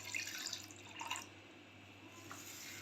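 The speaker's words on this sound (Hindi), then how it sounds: "कलेजी को 2 से 3 मिनट मसलने के बाद मैं इसमें थोड़ा सा पानी शामिल कर दूँगी" Water trickles and drips into a bowl of raw chicken liver, a soft splashing pour that rises and fades over a few seconds with no talking.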